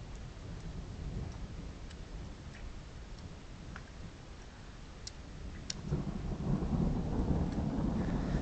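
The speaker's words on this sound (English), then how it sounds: "It sounds like thunder sound effects you get in films" A thunderstorm rolls through with low thunder rumbling under steady rain, the rumble swelling louder toward the end, while scattered sharp drips and ticks land close by; no voices are heard.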